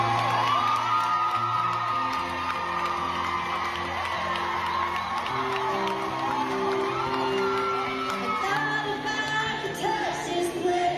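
A large crowd cheers, whoops and shouts continuously at a concert, the singer's first show before an audience since the pandemic, with music playing underneath throughout.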